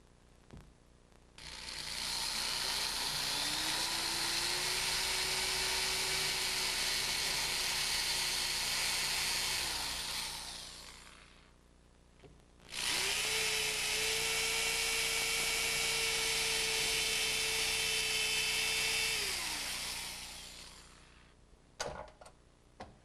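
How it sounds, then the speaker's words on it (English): A power drill with a masonry bit whines steadily into a plaster wall in two long bursts of about ten seconds each, with a gritty grinding texture and a short pause between them. "these are real plaster walls, so we're going to use a masonry bit"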